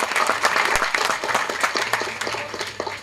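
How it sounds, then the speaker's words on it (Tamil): At a film audio launch event, an audience applauds a national-award-winning makeup artist, with a crowd of hands clapping in a lively, uneven patter that tapers slightly toward the end. "அவருக்கு ஒரு நல்ல கைத்தட்டு"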